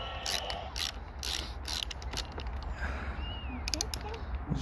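Ratchet with a long extension and 5 mm socket loosening bolts on a motorcycle sat nav bar mount, giving quick repeated clicking pawl strokes, close and moderately loud over steady background noise.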